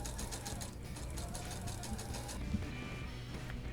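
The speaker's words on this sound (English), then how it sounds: "So just continue to take a few stitches." Sewing machine stitching fold over elastic onto fabric, with a rapid even motor whir and needle patter that slows and fades near the end.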